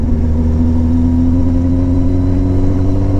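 A Kawasaki Ninja 600 sport bike engine runs at a steady, droning rev while riding, loud and close, with a constant rumbling hum and no talk.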